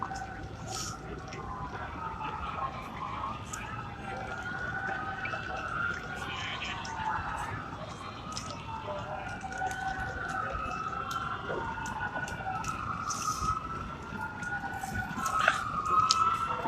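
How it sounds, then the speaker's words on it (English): Wailing ambulance sirens rise and fall continuously in the distance at a climate strike, growing slightly louder over a faint street background. "We hear some sirens coming, but those sound like ambulance."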